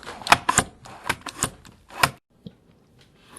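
A bassoon reed finishing machine's blade cuts a cane reed, giving a string of sharp, irregular clicking snips close up, followed by a few quieter taps.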